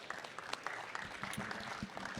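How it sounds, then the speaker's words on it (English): An audience at a decentralized networks summit applauds steadily, a dense round of clapping filling the room for a couple of seconds with no voices over it. "So let's give him a round of applause, please."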